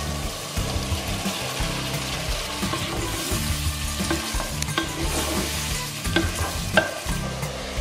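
Peppers frying in a pot of chili con carne after the beer has cooked off, a steady sizzle with scraping stirring and occasional clinks of the utensil against the pot, close up and without talk.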